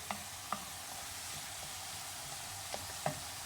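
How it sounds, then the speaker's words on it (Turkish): Swiss chard sautéing in a pan as it releases its juices, with a steady quiet sizzle and a few soft stirring scrapes and taps near the start and end. "Pazı Kavrulmaya devam ederken suyunu iyicene saldı."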